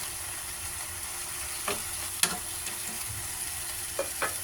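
Chicken adobo with bay leaves simmers in a pot while a utensil stirs it, giving a few soft scrapes and clinks over a low, steady bubbling hiss, with no talking.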